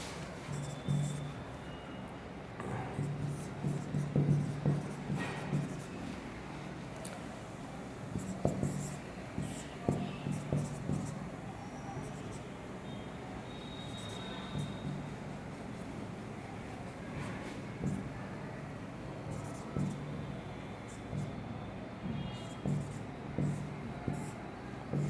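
Marker or chalk strokes on a classroom board during a physics math lecture, a series of soft scratchy taps and scrapes in irregular bursts, fairly faint and close, with brief pauses between strokes.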